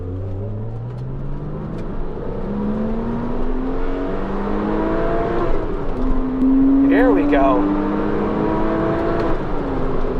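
A car engine revs up through rising gears, its pitch climbing and dropping in steady sweeps, with a brief spoken remark partway through.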